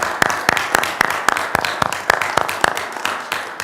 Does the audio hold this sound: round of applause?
yes